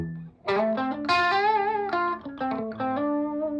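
Electric guitar through a Boss Katana amp at its cleanest setting rings out a short phrase of sustained, harmonically rich notes and chords, close and clear after a brief quiet lead-in, with no talking.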